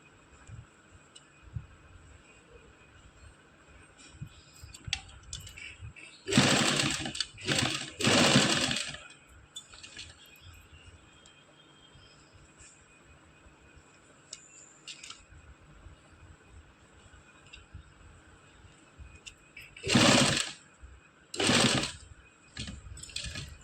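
A sewing machine stitches lace onto a garment neckline in two short runs of rapid, close whirring, separated by quieter handling noises and pauses.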